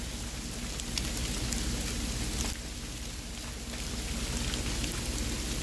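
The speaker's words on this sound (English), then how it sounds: "right this moment, it is hailing little fucking balls of ice." Ice pellets from hail fall outdoors in an Atlanta backyard and rattle onto a greenhouse as a dense, continuous, loud patter. Its level dips briefly midway before building back up, with no voices.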